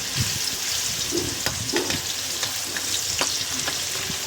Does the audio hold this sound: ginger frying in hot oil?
yes